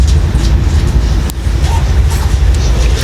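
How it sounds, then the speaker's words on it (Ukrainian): A train moves fast, with a loud, constant rolling rumble and a rushing roar heard from inside the carriage. "Швидко поїзд їде, не то що наші."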